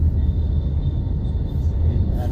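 An MRT commuter train in Manila rumbles past, a steady low rail drone filling the whole stretch with no clear breaks, fairly loud and close.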